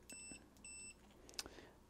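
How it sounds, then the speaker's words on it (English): A multimeter on continuity mode beeps while probing a short circuit during ATtiny programming with Arduino, giving two short, faint electronic tones followed by a soft tap. "if it detects a short circuit, what it's going to do is beep. It's going to beep like that."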